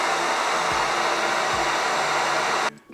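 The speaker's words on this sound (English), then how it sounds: "I do have a heat gun." A heat gun roars at max heat setting while heating stuck screws on a KingSong S22 electric unicycle, a loud, constant blowing hiss that continues for nearly three seconds before it suddenly stops.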